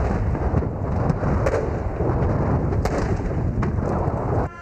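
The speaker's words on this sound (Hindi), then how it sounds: "श्रीलंकन फौज ने 21 तोपों की सलामी दी।" A 21-gun artillery salute fired by the Sri Lankan army at a state welcome ceremony comes through as loud, continuous rolling booms with a dense rumbling roar and no voices.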